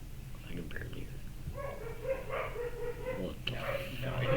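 Dogs bark and yip at a moderate distance in short irregular bursts, mixed with hushed human voices close by.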